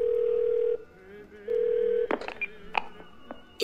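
A phone in a 911-calling video game gives two long steady ring tones, followed by a few brief sharp electronic blips and clicks, close and clear with no talk.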